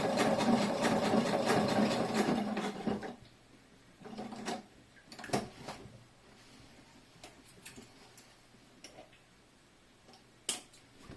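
A sewing machine runs a straight stitch on fabric for a shoulder bag, a dense buzzing burst for about three seconds, then stops, leaving scattered clicks and handling taps.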